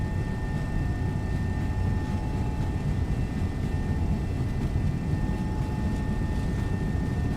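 An MD-11F's jet engines roar at takeoff thrust in a flight simulator game, a loud, steady broadband rumble with a faint constant whine on top, unbroken throughout.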